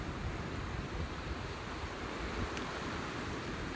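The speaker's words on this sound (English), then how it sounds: "When these waves are crashing like this, is that safe?" Ocean waves crash and roll onto the shore in a continuous, roaring wash, mixed with wind buffeting the microphone, with no voices heard.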